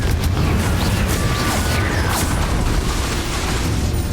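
Confringo fire spells in Hogwarts Legacy burst into loud, dense explosions, a continuous roaring barrage of booms and crackling blasts with whooshing spell effects layered over a heavy low rumble.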